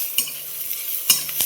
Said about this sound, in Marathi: थोडासा कांदा टाकला फोडणीला